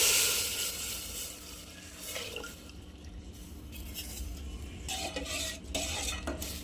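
A spoon stirs and scrapes through food sautéing in a pan over a low gas flame, with a soft sizzle beneath. The strokes are irregular, close and fairly quiet, and no one speaks.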